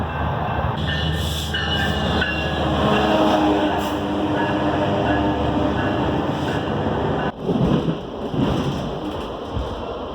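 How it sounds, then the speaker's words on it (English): A train rumbling loudly and steadily nearby, with squealing wheels and a heavy shift in the noise near the end. "there's the bus, and then there's the train"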